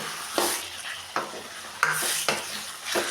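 Kidarangai citron pickle mixture sautéing in oil until the oil separates, with a steady sizzle and about five scraping stirs at regular intervals, close and moderately loud with no talking.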